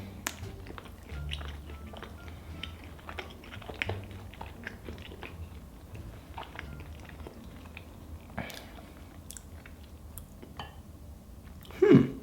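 A nut-topped Cinnabon cinnamon roll being bitten and chewed close to the mic, soft wet mouth sounds and small crunches over several seconds, ending in a louder muffled burst.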